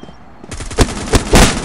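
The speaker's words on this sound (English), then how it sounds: "I'm gonna go with my A91. This is a Russian assault rifle." A91 Russian assault rifle firing in a video game, a quick volley of loud, sharp shots in close succession with a heavier burst at the end, close and dry.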